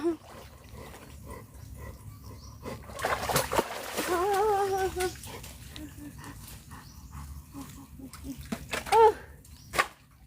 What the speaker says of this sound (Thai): ชะบูโดดน้ำไปเอาหอยไปเอาอันนี้ละดูดคาบมาแล้ว